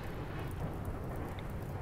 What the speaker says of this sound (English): We actually have some rain coming in.